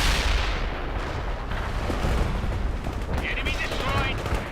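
Gunfire and artillery in the World in Conflict war strategy game, a dense continuous barrage of shots and booms with rumbling low end, steady and loud throughout with no pauses.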